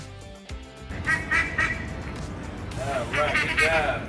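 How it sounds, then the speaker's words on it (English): Several duck quacks ring out over a steady engine-like rumble, with a short gap early on and a cluster of loud quacks near the end. "But what about ducks?"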